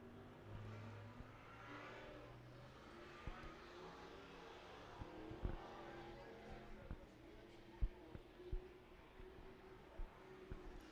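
Small juice box karts pull away together as their group takes the green flag at a county raceway, a steady engine whir broken by short revving bursts, with an announcer talking over it.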